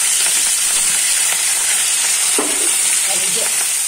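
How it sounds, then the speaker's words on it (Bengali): Hilsa fish pieces fry in a wok with a loud, close, continuous sizzle and hiss, steady throughout, with faint kitchen clatter. "দেখো মাছ ভাজা হচ্ছে।"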